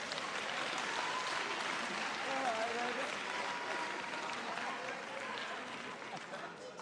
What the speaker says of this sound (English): And give them a good round of applause.